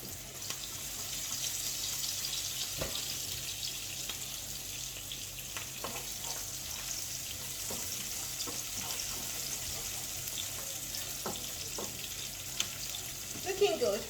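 Onions frying with cracked black pepper in a pan give a steady soft sizzle throughout, with occasional faint spoon taps and scrapes from stirring, close and fairly quiet, no talk.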